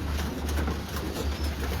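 A sturdy breeder pigeon cooing softly in a loft, low throaty coos repeating over a faint steady background hum.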